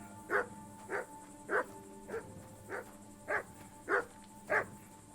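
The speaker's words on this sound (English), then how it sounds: "Clever dog." A clever dog barks eight times in an even, steady rhythm at moderate distance, each bark short and clear over a low background hum.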